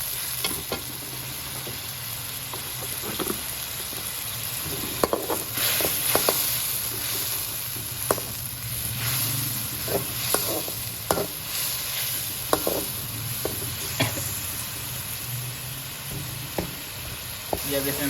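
Cumin seeds and black pepper fry in a pan and are stirred, with a steady sizzle and repeated scraping clicks of a spoon against the metal, close and clear, with no talking.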